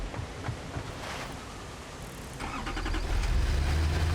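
A truck engine cranks and catches in a video game, a short starter whir followed by a rising, steady mid-pitched idle rumble that grows louder toward the end, with no voice over it.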